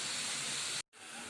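A pressure cooker holding onions, tomatoes and water hisses with a loud, steady jet of steam, cutting out abruptly for a split second before the hiss resumes slightly softer.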